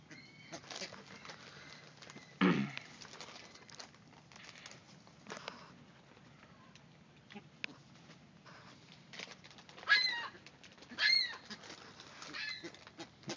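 Small birds feeding with a rapid, soft pattering and dabbling like ducks eating, in quiet bursts with a few sharper flutters and chirps, fairly close.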